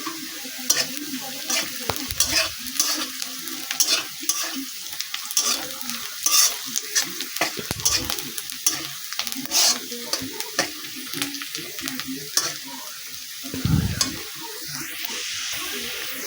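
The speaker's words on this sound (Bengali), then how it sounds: "তো আমি এখানে পেঁয়াজটা ভাজা করছি।" Onions fry lightly in a pan with a close, steady sizzle, punctuated by repeated scraping and knocking of a spatula stirring them throughout, with no talking.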